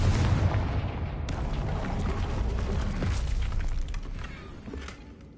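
A Confringo blasting spell in Hogwarts Legacy detonates with a loud booming explosion, followed by a rumbling, crackling tail of debris that slowly fades over several seconds, with no talking.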